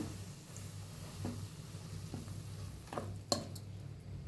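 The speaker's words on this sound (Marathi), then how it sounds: "चांगलं चमच्याने मिक्स करून घ्या" Ghee being stirred with a spoon into chakli flour mixed with chakli masala and sesame seeds, giving a few soft scrapes and clinks against the bowl, including one sharper tap, over a low steady background hum.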